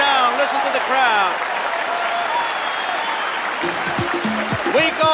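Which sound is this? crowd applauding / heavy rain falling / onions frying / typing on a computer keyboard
crowd applauding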